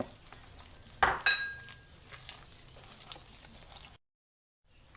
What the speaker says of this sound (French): Et je vais mélanger le tout.